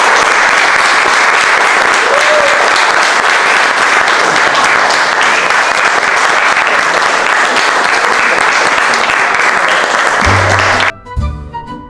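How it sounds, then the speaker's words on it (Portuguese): Loud, sustained applause from a stand-up comedy audience in Portugal, a thick wall of clapping that fills most of the stretch before cutting off abruptly into music near the end. "venham lá essas salvas de palmas"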